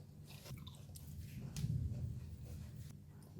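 Someone chews a bite of braised pork shoulder and shiitake mushroom wrapped with crunchy vegetables, sauce and chili, making close, soft crunching and biting sounds with no talking.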